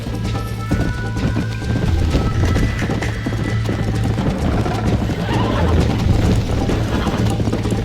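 Horse hooves clip-clop at a steady gallop in the Red Dead Redemption Western video game, loud and close with occasional whinnies, while someone talks excitedly over the running.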